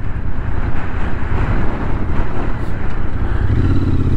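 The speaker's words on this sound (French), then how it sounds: "En Royal Enfield, c'est juste la moto idéale" A Royal Enfield motorcycle still in its running-in period rides along a small country road among olive groves in Provence. Its engine drones steadily and loudly, with heavy wind buffeting the microphone throughout.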